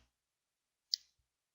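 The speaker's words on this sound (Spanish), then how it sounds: "hacemos clic en Añadir categoría" A single faint, sharp computer mouse click in an otherwise quiet room, with no talk.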